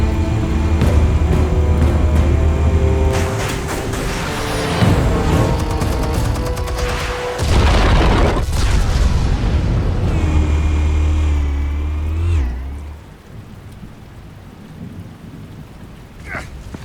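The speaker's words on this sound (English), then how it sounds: "Explosives armed. Fire when ready." Explosives detonating in Batman: The Telltale Series, heard as loud rumbling booms and crashing debris over a low, steady musical drone, fading after about twelve seconds into a quieter tail.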